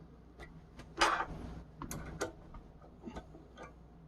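Ratcheting clicks from tightening the prop nut on an E-flite Extra 330 RC airplane, several sharp close ticks with a louder burst of clicking near the start, with no talk.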